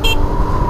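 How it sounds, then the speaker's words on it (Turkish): Horn of a Volta RM5 electric scooter, a short bright electronic beep sounding once near the start over steady low hum, loud and close. "Kornası da bayağı iyi."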